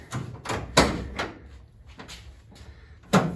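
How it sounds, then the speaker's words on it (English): A few close clunks and rattles of a 1977 Chevy Camaro car door being opened and handled, with a solid thud early on and another near the end. "when you open the door"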